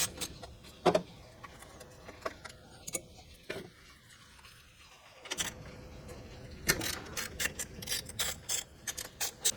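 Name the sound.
ratchet removing 12 mm bolts from Club Car side cover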